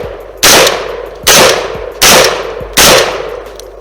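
Four sharp gunshots ring out at a steady pace in a tactical shooting demonstration, each loud close crack followed by a short decaying echo.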